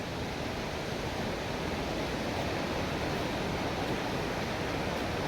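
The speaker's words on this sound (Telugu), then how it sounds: "వాటర్ ఫాల్ దగ్గరికి అయితే వచ్చాం మనం" Loddha waterfall pours in a constant, even rushing hiss, moderately faint and heard from some distance, with no voices over it.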